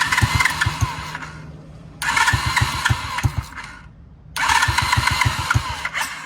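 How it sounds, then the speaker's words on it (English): A 50cc dirt bike engine cranks in three separate bursts, each a close, loud, rhythmic chugging attempt to start, with short pauses between tries and no talking. "Hit the switch, power her on, flip the key to on for the ignition."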